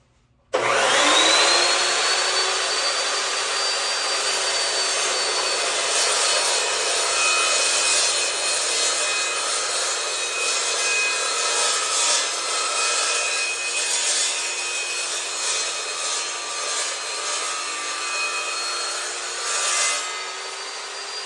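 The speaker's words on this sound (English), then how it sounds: "with this particular saw for cutting steel" A power saw cuts through steel while building a welding cart for a Miller 330 welder, a loud continuous grinding whine starting abruptly and holding steady with slight rasping fluctuations for about twenty seconds, with no talking.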